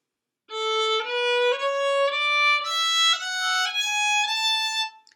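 A solo violin plays a slow run of evenly spaced notes, each one stepping upward in pitch, clear and close with no accompaniment.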